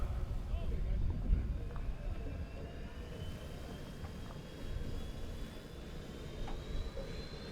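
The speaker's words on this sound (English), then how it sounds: "fired up that T55 L7C turbine engine, and he is away from the dock" A hydroplane's T55 L7C turbine engine runs away from the dock before a Bayfair race heat, a steady distant whine and rumble over wind and water noise, with a commentator talking throughout.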